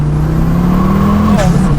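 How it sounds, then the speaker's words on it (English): A Mk4 Ford Escort fitted with a Volvo/Focus 5-cylinder turbocharged engine idles and builds revs close by, a steady low drone that lifts in pitch near the end, loud and continuous with no talk over it. "This is a Mk4 Escort with a Volvo / Focus 5-cylinder turbocharged engine"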